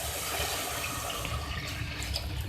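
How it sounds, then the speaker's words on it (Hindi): A glass of water poured into kofta karahi masala in a pan makes a steady, close rushing splash that runs unbroken for the whole moment, with no talking. "मैं इसमें 1 गिलास पानी ऐड करूँगी।"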